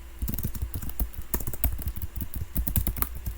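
Rapid clattering keystrokes on a computer keyboard, an irregular stream of close, crisp taps with brief pauses, heard alone in a quiet room.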